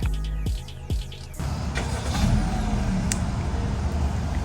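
2022 Honda Civic Sport hatchback started by remote start: a few electronic tones, then the engine catches and settles into a steady, close idle.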